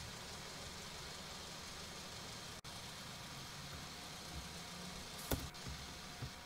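A farm vehicle engine idling in Farming Simulator 19: a steady, low mechanical hum running throughout at low level, broken by a brief dropout and a couple of faint clicks near the end.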